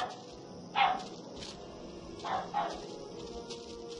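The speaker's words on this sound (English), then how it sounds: "Thought I heard some dogs barking in this level" Dogs barking in the video game Soldier of Fortune in a German level, a few short distant barks over a steady low game ambience.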